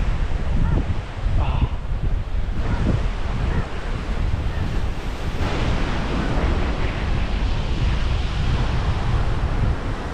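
Sea waves wash against a harbour-type beach in Pondicherry, a steady broadband roar of surf mixed with heavy wind buffeting the microphone, and a voice speaks faintly over it now and then.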